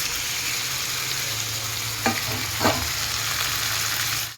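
Cumin seeds and onion sizzle steadily in hot cooking oil in a pan while beans palya is being made, a close, continuous frying hiss with two brief scrape-like clacks of stirring near the middle, no voices.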